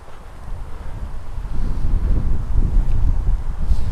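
Steady wind gusting across a golf course, a low roaring buffet against the microphone that swells louder partway through and keeps rumbling with no talk.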